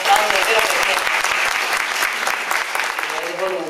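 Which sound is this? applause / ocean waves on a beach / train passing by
applause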